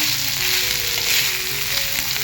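Steady, dense sizzling of chana dal sandga dumplings cooking on low heat in a black pan, a continuous crackling hiss with no voices.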